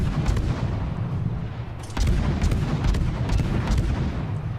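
Heavy naval guns firing in the warship battle game World of Warships, several booming salvos with a big blast near the middle over a continuous rumbling background.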